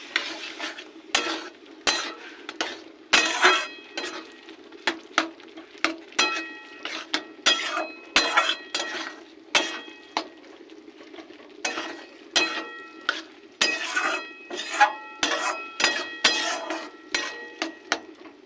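Mashed boiled banana flower being stirred into mung dal in a pan, heard as repeated sharp clinks and scrapes of a metal spoon against the pan in an uneven rhythm, close and fairly loud, with a soft background hiss.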